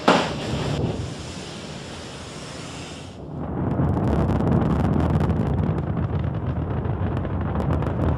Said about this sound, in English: the SRBs launch and the main engines go